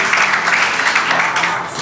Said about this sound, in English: I would like you to clap hands. Just clap hands. All of you.